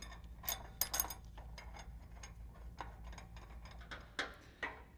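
A ratchet tightens bolts holding a shock relocation bracket on the U-bolt of a 1967 Chevy C10 truck's suspension, giving quiet, repeated clicking strokes in irregular bursts over a low shop hum.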